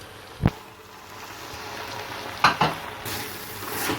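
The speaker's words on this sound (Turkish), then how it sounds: "Bir güzel karıştırıyoruz arkadaşlar" Cooked tripe being stirred in a frying pan, with a couple of scraping knocks of the spoon against the pan over a soft, steady sizzle, close and fairly quiet.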